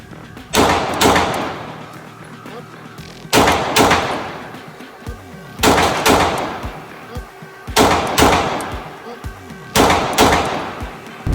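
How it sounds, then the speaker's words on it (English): Pistol gunfire during a SWAT-style carry-pistol training drill: sharp, loud shots come in quick pairs, about five double-taps spaced a couple of seconds apart, with short echoing tails between them. "Now fire 2 rounds."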